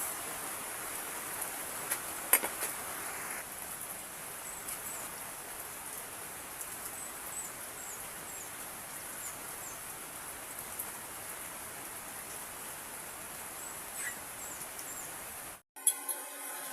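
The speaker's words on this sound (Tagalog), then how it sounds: "it's raining" Steady rain falls continuously at moderate volume, a diffuse hiss with scattered drip spatters, heard alone without talk and ending abruptly near the close.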